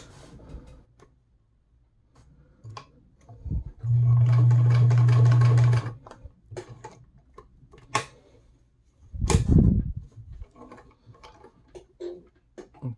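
A Gritzner VZ (Kenmore 117.740) sewing machine with a size 14 needle stitching slowly in one short, steady whirring burst of about two seconds, set among scattered clicks and handling knocks in a quiet room.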